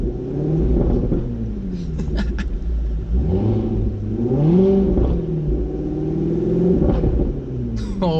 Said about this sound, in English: These new ZR1s sound so fucking good